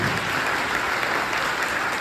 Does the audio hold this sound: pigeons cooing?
no